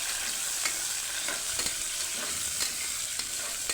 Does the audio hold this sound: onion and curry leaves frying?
yes